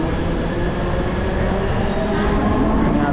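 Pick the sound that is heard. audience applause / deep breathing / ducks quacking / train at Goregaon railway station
train at Goregaon railway station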